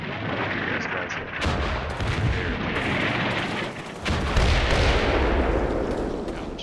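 Heavy artillery shells strike in the wargame Combat Mission, several loud booming blasts and crackling explosions overlapping in quick succession with rumbling tails.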